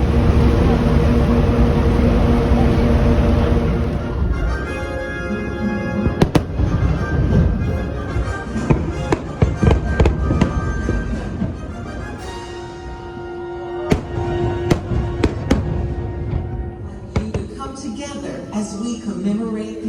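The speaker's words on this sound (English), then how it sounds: "hopefully catch the fireworks at Poly." Fourth of July fireworks at Disney's Polynesian resort, loud rapid bangs and crackling bursts that come in dense clusters and then thin out into scattered booms, with faint voices underneath.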